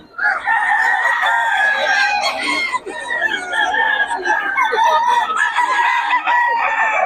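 A rooster, a gamefowl offered for sale, crows loudly and almost continuously at close range, its harsh harmonic calls overlapping with clucking from other fowl nearby.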